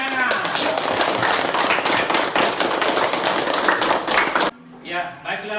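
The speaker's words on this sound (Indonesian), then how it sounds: "tepuk tangan." An audience claps together indoors after a group discussion session, a dense sustained burst of applause that stops abruptly, followed by a voice speaking.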